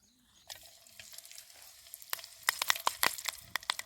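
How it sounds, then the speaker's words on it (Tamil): Cut chilies frying in hot oil, a dense close sizzle that builds, with sharp crackles and pops bursting through toward the end, no voices. "நல்லா பொரி வந்துடுச்சு எண்ணெய் நல்லா பொரி வந்துடுச்சு வெட்டி வச்ச மிளகாய்"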